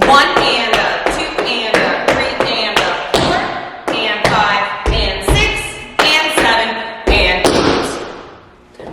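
Sharp, rhythmic taps and heavier stomps of tap shoes on a hard floor, close and loud, while a voice counts the beat aloud.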